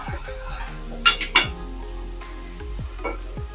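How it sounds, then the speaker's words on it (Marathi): Tomato puree goes into a pan of fried ginger-garlic paste for chicken masala curry, with a few sharp metal clinks of a spoon against the pan and soft stirring scrapes, fairly quiet. "दोन टोमॅटोची प्युरी करून घेतलेली आहे ही सुद्धा यामध्ये काढून घेऊया आणि व्यवस्थित मिक्स करून घेऊया"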